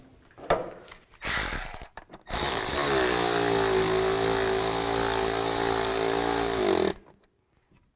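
Power tool tightening the fan cover bolts on a 2005-15 Nissan Xterra radiator cooling fan. Two short whirring bursts are followed by a long, loud steady whine of about four seconds, which ends abruptly.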